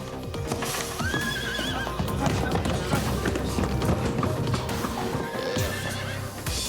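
Horses on a transport truck run delivering about twenty horses between Brisbane and Cairns neigh loudly and shrilly while hooves clip-clop and thud in a busy, close jumble, with some voices faintly mixed in.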